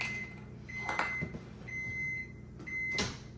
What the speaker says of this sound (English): You gotta open your microwave